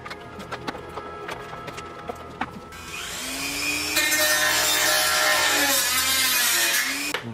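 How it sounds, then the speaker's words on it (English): Dremel rotary tool scoring a plastic armor piece for a scout trooper costume: scattered taps and handling noises first, then a high grinding whir that builds and holds loud to the end. "I went and scored it with the Dremel"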